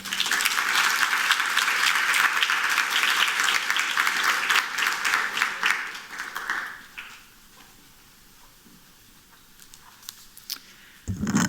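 Sustained applause from a conference audience for the dean at an opening session, loud and steady for about six seconds before fading out, followed by a quiet pause.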